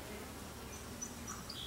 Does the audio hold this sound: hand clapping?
no